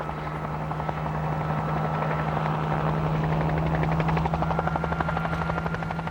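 A helicopter herding wild mustangs holds a steady rotor thump and turbine drone, loud and continuous from start to finish with no voices.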